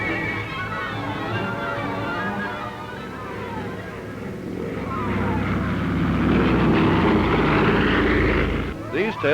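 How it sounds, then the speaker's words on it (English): A converted, re-engined aircraft taxis along Waitemata Harbour, its engine drone steady and close, building louder toward the end, with a voice speaking over it. "Taxiing along Waitemata Harbour, the engineers test the plane's controls."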